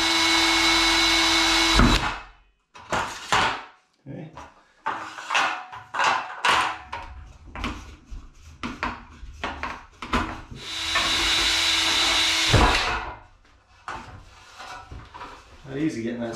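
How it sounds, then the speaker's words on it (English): Two bursts of a power drill with an 1/8-inch bit whir for a couple of seconds each, drilling a hole while installing tub sliding glass doors, close up, separated by scattered clunks, handling noises and a brief spoken word. "then you take an 1/8-inch drill bit and drill that hole."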